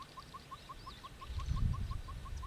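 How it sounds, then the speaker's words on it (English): Red-billed hornbill in Kenya giving a steady series of short, evenly spaced piping notes, moderately loud, with faint other birds behind and a low rumble of wind or vehicle noise building toward the end. "And that's the sound of the red-billed hornbill coming in."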